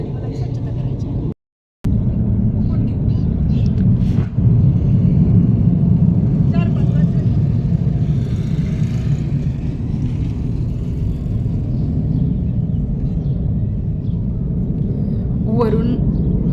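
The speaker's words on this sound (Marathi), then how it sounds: "वरून विमान चाललं होतं आणि त्याचा घरघर असा आवाज होता" An airplane passes overhead above a house, and its low, steady droning rumble fills the whole stretch at a loud level. It cuts out only for a brief moment near the start.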